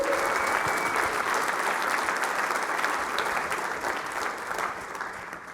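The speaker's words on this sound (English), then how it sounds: "Yeah, we can clap for that." A large audience claps enthusiastically at the GitLab Sales Kick Off 2020 product strategy session: dense, continuous applause that stays strong and then eases slightly toward the end.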